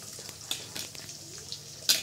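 Onion and coriander dropped into a hot pan with cumin for a village-style potato chutney, giving a faint, soft sizzle broken by a few light clicks of stirring.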